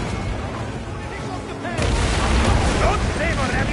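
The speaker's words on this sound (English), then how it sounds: "Our catapults will fire upon your order." Ship catapults firing in Assassin's Creed Origins during a naval battle, a heavy rumbling launch that swells partway through and keeps booming over a steady battle din, with voices talking.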